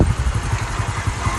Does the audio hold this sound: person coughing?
no